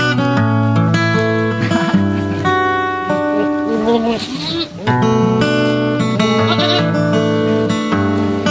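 Goats bleating at a rural Philippine farm in the province: a run of wavering, nasal calls that overlap one another, fairly close and loud, continuing for several seconds.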